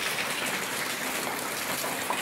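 Steady rain pours down during a typhoon in Leyte, a dense even hiss with no pauses, close and moderately loud, with no voices.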